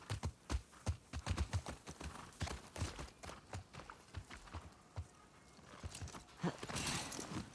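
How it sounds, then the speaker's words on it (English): Horse hooves clip-clopping in The Last of Us Part 2, an irregular run of sharp hoof knocks near the listener, with a brief snort toward the end. "Can we climb on the horse?"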